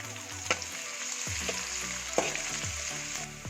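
Chopped ginger and green chillies sizzle in hot oil for a mustard mango pickle, a steady bright crackle with a few sharp stirring clinks and scrapes, close and alone with no voices.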